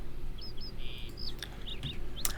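Pigeons at a mailbox in the video game Lord of the Rings Online give a few short chirps and coos over a steady ambient game background, with brief clicks near the end.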